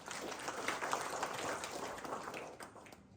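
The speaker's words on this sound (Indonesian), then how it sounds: "Tepuk tangan untuk firman Tuhan." Congregation applauding during a church worship service in Cipanas, a steady dense wash of clapping that holds for about three seconds before thinning out at the end.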